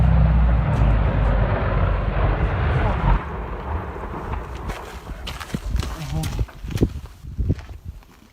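An airplane comes in for a rough landing, a loud, broad roar and rumble for the first few seconds that gives way to irregular thumps, clattering impacts and scraping noises nearby.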